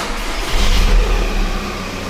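A Volkswagen Passat TDI diesel engine runs again after a no-start fault is repaired. Its close, loud idle swells briefly, then settles into a steady low rumble.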